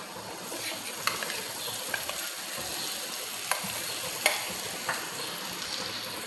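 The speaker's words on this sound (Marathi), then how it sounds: "आता यात आपण जे भिजवलेले साबुदाणे होते ते यात टाकून घेऊयात" Soaked sabudana pearls are stirred into cooked potatoes in a hot pan, giving a steady close sizzle. A spoon scrapes and clicks against the pan now and then. No one speaks.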